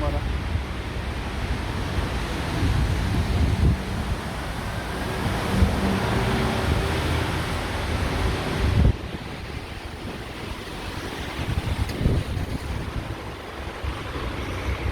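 Strong cold wind blows across the microphone outdoors at a fuel station in Germany, a steady heavy roaring rush with gusts swelling and dipping over fifteen seconds.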